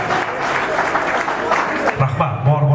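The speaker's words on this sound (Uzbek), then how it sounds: "otajon, onajonlarimiz uchun chiroyli bir to'yona qarsaklarni taqdim etsa" Guests clapping at an Uzbek wedding celebration in Samarkand, a loud burst of applause from a crowd, with a voice cutting in near the end.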